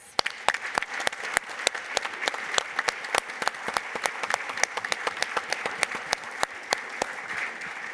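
A modest audience claps at a veterans' event, the individual hand claps sharp and distinct in a quick irregular patter that holds steady and close for several seconds, with no voices over it.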